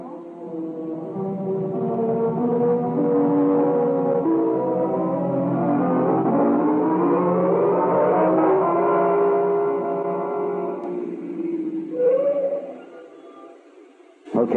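Car engine driving, a steady rising-and-falling motor whine with strong harmonics sustained for about twelve seconds, then fading out before a short sound at the end.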